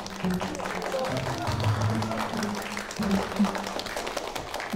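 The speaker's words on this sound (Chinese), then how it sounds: "下面让我们用最热烈的掌声欢迎别里科夫老师" An audience at a stage event breaks into warm applause as a guest teacher is welcomed, steady clapping from a crowd under light background talk.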